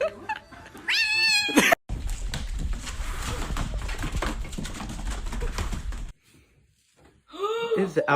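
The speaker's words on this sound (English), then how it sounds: "This is an alcoholic ass cat, man." A pet cat meows loudly indoors, a drawn-out yowl at the start and another near the end, with someone talking between them.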